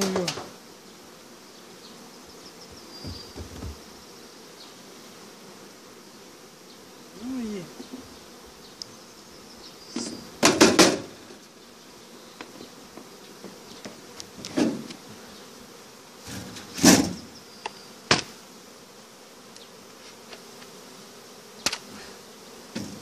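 Honeybees hum faintly around an open hive as frames with wax foundation are set in, the low buzzing broken by several sharp knocks and scrapes of wood.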